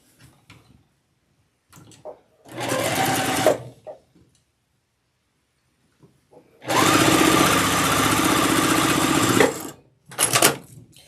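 A sewing machine stitches triangle pieces onto a diamond quilt block in two sustained runs, a short burst and then a longer steady whir, with brief quiet handling sounds between and a quick final burst at the end.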